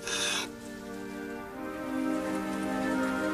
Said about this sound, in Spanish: Llovía y llovía como si nunca fuera a parar.